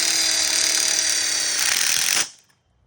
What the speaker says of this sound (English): Screwing the tube in the 3-way corner.